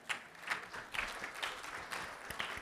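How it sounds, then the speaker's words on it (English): Applause from a conference audience at an Infusionsoft event, a steady patter of many hands clapping that swells in waves at a moderate distance, with no talk over it. "Round of applause."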